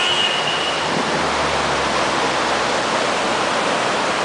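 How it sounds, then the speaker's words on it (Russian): Constant roar of a rushing mountain river in the Fiagdon canyon, a dense, even hiss with no breaks, fairly loud and close. "Шум реки слышен далеко."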